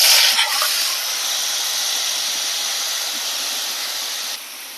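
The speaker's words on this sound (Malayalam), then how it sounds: "നമുക്കിതിലേക്ക് കഴുകി വെച്ച ചരക്ക ഇട്ട് കൊടുക്കാം കേട്ടോ." Washed bottle gourd drops into a hot pan with mustard seeds, setting off a loud, steady hiss of steam that fades slightly before stopping abruptly.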